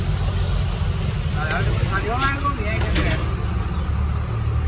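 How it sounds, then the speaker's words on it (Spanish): Urban buses rumble through a Sinaloa neighborhood, a steady low engine drone with passing vehicle noise and a brief brake squeal, while people talk nearby over the traffic. "y los camiones urbanos que no puedan faltar en este barrio"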